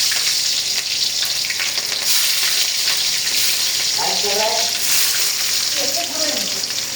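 Chili, onion and garlic fry in a hot pan with a steady, loud sizzle that fills the clip, a few faint scraping stirs breaking through near the end.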